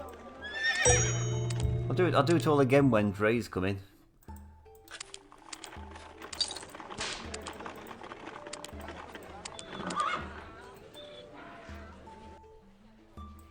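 In the strategy game Trade Empires, horses whinny in a loud, bright burst at the start, followed by quieter clip-clop hooves and clicks while someone talks over the game sounds.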